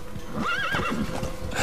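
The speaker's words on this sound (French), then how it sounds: "j'ai appelé le cheval" A horse whinnies once with a rising and falling cry over about half a second, close and fairly loud, followed by a lower snort-like call and faint background noise, with no talking.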